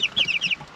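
Chicks and hens on a farm, a quick burst of high cheeping and soft clucking, close and brief, with no talk.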